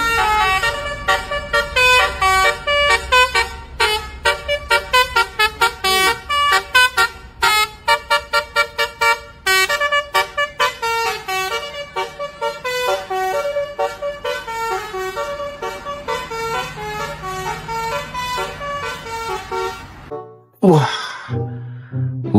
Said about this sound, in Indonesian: Yang ini ada bus Sumber Alam teman-teman.